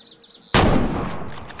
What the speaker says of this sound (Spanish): Perfecto, buen disparo.